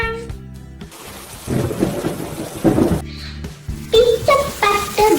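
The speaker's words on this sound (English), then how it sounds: "Peter, patter, drip and drop. I make rain happen." Thunder rumbles and steady rain play as a sound effect during a school annual day stage play, swelling in loud waves over a continuous rain hiss.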